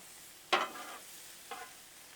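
Shrimp and sausage frying on a Blackstone griddle, a soft background sizzle broken by two scraping stirs of a spatula, the first louder, no voices.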